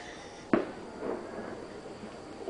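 A balloon filled with HHO gas goes off on a fuse outdoors on New Year's Eve, giving one sharp, fairly distant bang with a brief rumble after it.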